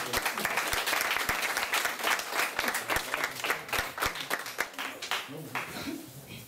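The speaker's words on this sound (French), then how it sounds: "On peut les applaudir." Sustained applause from an audience at a cabaret show, dense steady clapping filling the whole stretch and thinning slightly toward the end.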